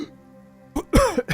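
A person gives a couple of short, rough coughs close to the microphone after a quiet pause, the last a quick throat-clearing rasp.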